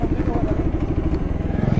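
A Bajaj Pulsar RS 200 or NS 200 motorcycle is ridden on a narrow road at evening. Its engine gives a close, steady, pulsing thrum with light clatter, and voices come in underneath.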